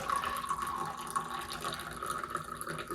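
Hot water is poured in a short, quiet, continuous trickling stream lasting a few seconds, heard alone.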